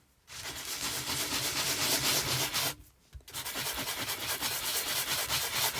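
A very fine sanding block rubs steadily over a handmade Christmas card, a continuous close scratchy scrubbing that stops briefly mid-way and then resumes at the same pace.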